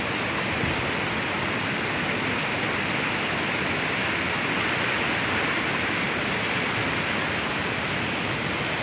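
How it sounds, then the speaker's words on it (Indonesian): Steady, full rush of the Cidurian river flowing at Desa Sukamaju in Cigudeg, Bogor Barat, a dense unbroken roar of water that stays close and loud throughout with no voices. "Ini adalah keindahan aliran Sungai Cidurian yang ada di Desa Sukamaju, Kecamatan Cigudeg,"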